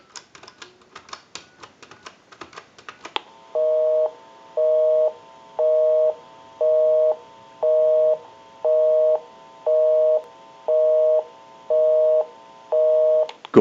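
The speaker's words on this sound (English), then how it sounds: "We'll call my number and it'll be busy." Busy signal on an original Disney Mickey Mouse telephone: after a burst of rapid dialing clicks, ten evenly spaced beeps pulse in a steady on-off rhythm, clear and fairly loud with nothing else over them.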